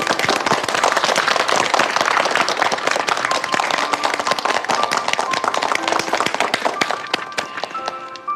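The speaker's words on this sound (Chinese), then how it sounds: "让我们给他鼓掌。" Applause in a Chinese drama scene as a crowd claps for a person working on a Huntington's disease treatment: dense, sustained clapping, loud and close, with crackly overlapping hand claps throughout.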